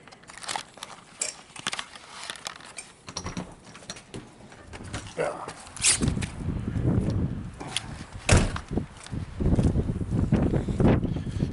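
Gusty wind buffets the microphone outdoors at night, low rumbling surges that swell and fade, mixed with scattered clicks and faint footsteps.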